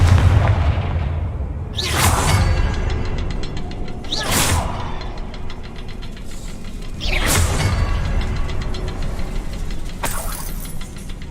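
Repeated booming blasts of the Confringo explosion spell in a Harry Potter video game, four loud bursts spaced a couple of seconds apart over a dense, rumbling mechanical backdrop, with no talk.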